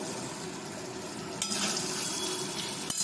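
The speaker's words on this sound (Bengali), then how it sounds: "গ্যাসটা কমিয়ে পেঁয়াজগুলো সুন্দর করে ভাজবো" Onions frying in a pan over a lowered gas flame with a sprinkle of salt, a soft steady sizzle with a brief stir partway through, fairly quiet and close.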